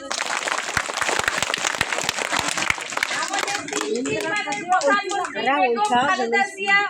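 A crowd at a gathering bursts into applause with dense clapping, which fades as a voice starts speaking over the last of it.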